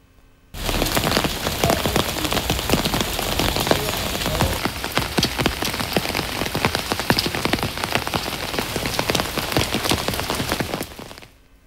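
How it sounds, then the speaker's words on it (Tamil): Moderate rain falls steadily across Thoothukudi city and district, a dense, continuous patter of drops striking surfaces, loud and even from start to finish with no voices. "தூத்துக்குடி மாநகர பகுதி மற்றும் மாவட்டம் முழுவதும் மிதமான மழை பெய்து வருகிறது"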